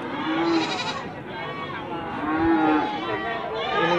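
Goats and other livestock at a busy animal market, bleating and mooing calls rising over a general crowd murmur with people talking nearby.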